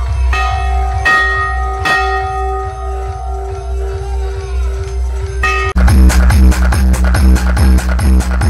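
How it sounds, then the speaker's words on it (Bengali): A large temple bell is struck repeatedly, each ring sustaining and layering over the last, then a louder, busier burst of clanging and bustle takes over near the end. "তো দেখি আমি ঘন্টাটা বাজাই।"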